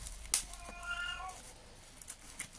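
A house cat meows for food, a short bright cry followed by a longer wavering meow, close and clear with a faint voice and household noise around it.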